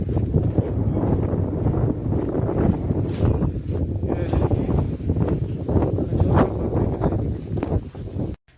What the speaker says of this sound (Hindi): कितना तेज हवा है